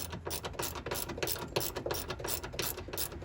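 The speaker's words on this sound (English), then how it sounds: "now 10mm socket, we're going in. Remove these bolts." A ratchet with a 10mm socket clicks rapidly and rhythmically while backing out headlight bolts on a 1990–1997 Mazda MX-5 Miata, close and loud, with no talking.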